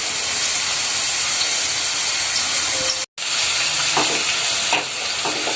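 Cumin, garlic and onion paste frying in leftover oil for bitter gourd curry, a loud, steady close-up sizzle with faint stirring, briefly cut off midway.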